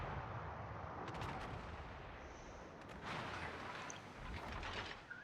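Naval artillery from warships in World of Warships, with a T8 destroyer in the fight: a steady, faint rumbling wash of distant gunfire with a few sharper bursts, and no voices.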